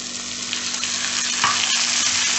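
Tomatoes and onions sautéing in a pan for vadacurry, a steady close frying sizzle with a few soft stirring scrapes over a short stretch, no voices.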